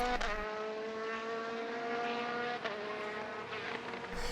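BMW Z4 GTR race cars and other GT cars at speed on the Nürburgring during a Supercar Challenge race, with a continuous loud engine roar and a rising, shifting pitch as the cars pass, and no voices.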